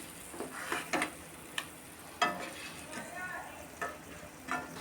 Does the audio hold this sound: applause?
no